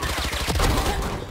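Rapid gunfire from the tactical shooter game Valorant, a dense burst of shots crackling close and loud for just over a second with no pauses.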